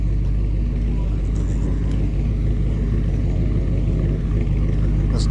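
Low, steady engine rumble of an idling truck, close and continuous with a thick low-end drone throughout, no speech over it.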